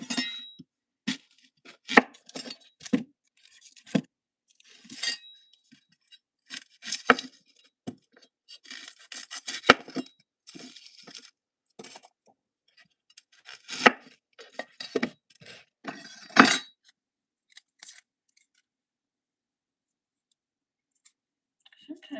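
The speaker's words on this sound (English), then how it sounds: "it's easier to take off a whole ring of the onion" A knife chops through an onion on a cutting board in a kitchen, sounding as a run of sharp, close taps in irregular bursts with pauses between them, and a voice speaks now and then.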